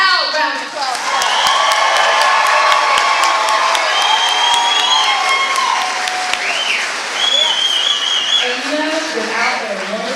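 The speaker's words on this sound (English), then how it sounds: "Let's give them a loud round of applause" Loud applause with cheering and whoops from a crowd for an elementary children's choir at a county chorus concert, sustained for about ten seconds with a few high shouts near the end.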